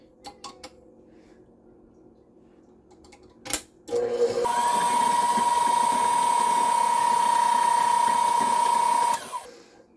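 Electric mixer beating cookie dough in a home kitchen: a few knocks and clicks, then the motor starts and runs as a loud, steady whir for about five seconds before stopping.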